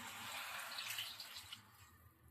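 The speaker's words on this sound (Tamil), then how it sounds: "மூணு டம்ளர் அரிசிக்கு 4 டம்ளர் தண்ணி ஊற்றிக்கலாம்." Water is poured into rice in a pot for vegetable biryani, four tumblers for three of rice, making a soft, steady rushing splash that fades toward the end, with no talk.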